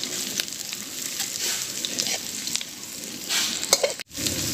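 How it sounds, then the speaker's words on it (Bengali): Cabbage frying in a pan with minced ginger and garlic added, a steady close sizzle with occasional stirring clinks and scrapes, one brief dropout near the end. "বাঁধাকপিটা আমার অর্ধেক ভাজা হয়ে গেছে, এবার আমি এর মধ্যে দিয়ে দেব আদার কিমা ও রসুন কিমা।"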